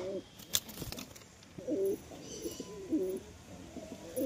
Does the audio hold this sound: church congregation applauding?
no